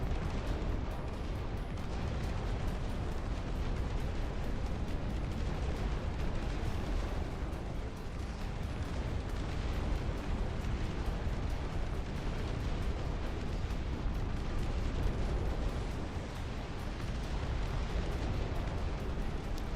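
Artillery gunfire in the real-time strategy game Dust Front: a dense, continuous barrage of booming blasts and rumbling explosions that fills the whole stretch at steady loudness, with no talking.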